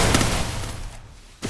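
Rapid gunfire in Counter-Strike, a burst of loud, dense shots that fills the first second, then thins and drops out near the end before a short sharp sound.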